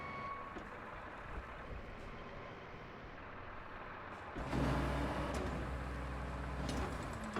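Truck engines in the video game Roadcraft, several at once: a steady, faint mechanical rumble that grows louder and heavier partway through, with no talking.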